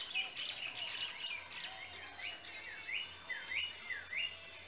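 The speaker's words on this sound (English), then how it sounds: "Oh, nice birdies, huh?" Several small birds chirp and whistle outdoors in a steady run of repeated short calls, moderately close over a constant high insect-like hum and faint low background noise.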